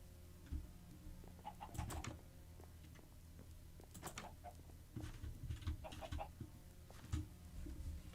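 Chicken clucking in a video game: several short bursts of clucks and squawks spaced across the clip, quiet and close, over a low steady background hum, no speech.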